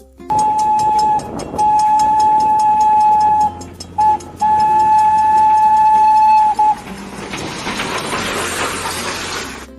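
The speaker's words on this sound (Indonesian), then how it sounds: "Selanjutnya ada kereta Thomas teman-teman" A Thomas toy train plays a loud, steady whistle tone that breaks off and resumes, over faint rattling, then gives way to a hissing, steam-like burst near the end, with no talk.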